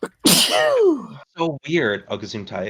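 One loud, sharp sneeze bursts out close to the microphone, followed right after by a person speaking.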